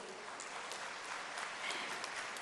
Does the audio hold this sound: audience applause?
yes